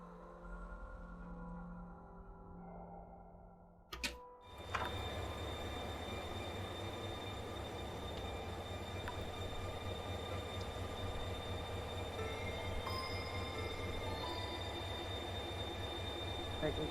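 Steady train ambience from the Darkside Detective video game: a continuous rumbling rail carriage with rattling wheels and a faint whine, after a brief quieter passage and a sharp transition, filling the whole stretch evenly.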